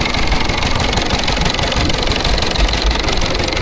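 A Lister D type stationary engine running at a tractor festival, a close, loud, steady rapid thumping with a rough mechanical knock and no pause.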